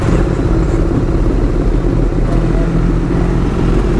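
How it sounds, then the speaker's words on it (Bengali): Four motorcycles, three with aftermarket exhausts and one stock, rumble together after a cold start, producing a loud, continuous, deep engine drone with no pauses. "এখানে হবে ভাই সব 4টে ভাই একসাথে কোল্ড স্টার্ট"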